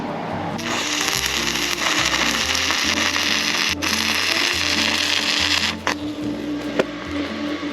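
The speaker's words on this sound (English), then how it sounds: "And then I'm gonna weld the whole way across." Sefaspe MMA 120 stick welder running a continuous bead across a joint, a loud steady crackling hiss close by that sputters near the end, with no talking.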